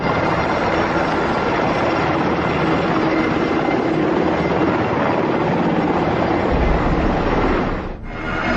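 Army helicopters flying over a Houston neighborhood, giving a steady, loud rotor and engine roar that fills the whole clip with no break, dipping briefly near the end.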